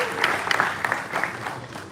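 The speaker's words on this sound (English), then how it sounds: "A round of applause for her." Audience applause at the AMVCA eleventh edition awards ceremony, a fairly soft, diffuse wash of clapping from a large room that holds steady for two seconds.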